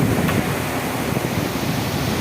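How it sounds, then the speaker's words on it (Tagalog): Heavy rain pours with strong gusting wind in Baharas, Saudi Arabia during a storm, a dense, loud, unbroken rushing wash close to the microphone. "Lakas ng ulan dito sa Baharas, Saudi Arabia."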